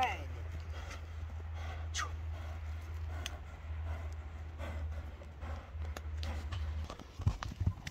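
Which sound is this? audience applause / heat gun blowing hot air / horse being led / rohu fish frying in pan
horse being led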